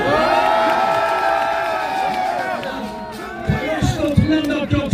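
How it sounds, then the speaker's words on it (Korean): A crowd at a rally by a university front gate cheers and shouts, then breaks into clapping as the voices fade, with raised voices throughout. "박수로 한번 환영해 주십시오."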